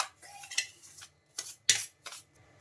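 Spoon stirring gram flour batter with salt in a bowl, a few soft scraping and clinking strokes at irregular intervals, close and quiet, with near-silence between them.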